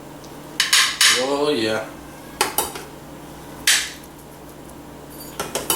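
A serving spoon scoops mashed potatoes onto a plate, making a few sharp close metallic clanks and scrapes against the dishware in quick irregular bursts, with a brief spoken remark in between.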